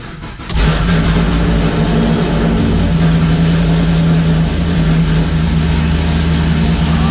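A Camaro engine cranks and catches, then roars and revs loudly close by, settling into a steady rumbling idle.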